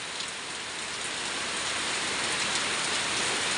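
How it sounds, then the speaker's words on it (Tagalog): Steady heavy rain pours down during a typhoon, a dense, even hiss of drops on surfaces filling the whole stretch with no voices. "Maulan pa rin. Maulan na Saturday,"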